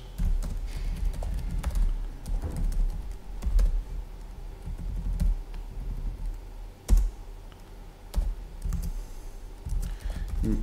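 Typing on a computer keyboard while writing a Python unit test, with soft irregular key clicks and clatter running throughout under low background noise.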